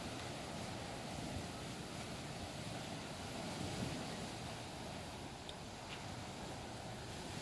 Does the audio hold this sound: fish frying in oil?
no